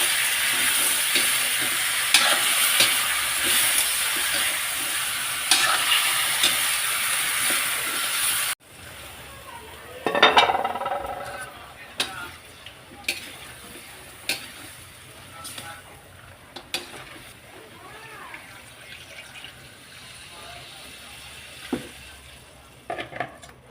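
Chayote added to native chicken cooking in a pan, a bright loud sizzle that drops suddenly to a softer bubbling simmer with stirring clatter, and a voice talking intermittently over it.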